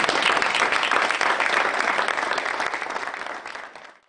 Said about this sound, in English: just let me know by a round of applause if you enjoyed yourself today